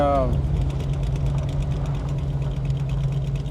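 A 1970 Plymouth Cuda with a 340 engine and four-speed idles roughly on seven cylinders, one cylinder dead. A steady, loud, low rumble runs throughout, with a brief voice at the very start.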